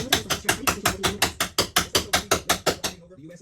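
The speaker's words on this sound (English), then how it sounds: "Sit there and chisel them." Hammer and chisel cutting out drilled spot welds on a car body, giving a steady run of about fourteen rapid metallic strikes. The blows are loud and close and stop abruptly at the end.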